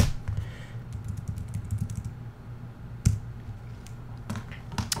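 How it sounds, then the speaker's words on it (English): Keys clatter on a Mac computer keyboard as a password is typed in, a quick run of light clicks with short pauses, close by with a low background hum. "I'm going to type in my password."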